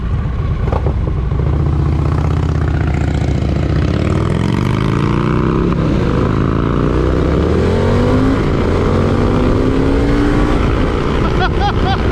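A 2023 Harley-Davidson Pan America Special with the Revolution Max engine being ridden: a loud, continuous engine drone that climbs and falls in pitch through the gears, with wind rush throughout.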